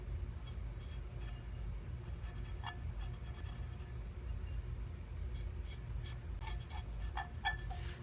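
Underglaze pencil sketching on ceramic by hand, giving faint, sporadic dry scratching and rubbing strokes over a steady low background hum, with no talking.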